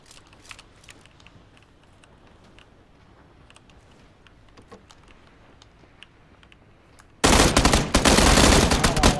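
Full-auto gunfire in the battle-royale game PUBG: after several seconds of quiet clicks and faint background ticks, a loud sustained automatic burst erupts near the end and rattles on without pause.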